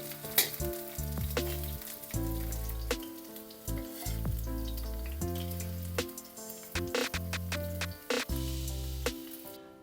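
Cauliflower pieces fry in hot oil, a busy crackling sizzle with sharp pops and spatters, broken by repeated tonal clanks of a utensil against the pan, near and moderately loud with no talking.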